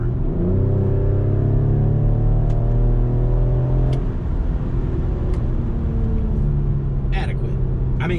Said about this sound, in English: I'm going to floor it from 50 miles an hour